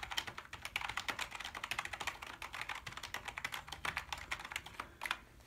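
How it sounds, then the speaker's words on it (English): Someone types steadily on a membrane computer keyboard, producing rapid, close, soft key clicks in a continuous rhythm with a brief pause near the end. "It's a comfortable keyboard to type on."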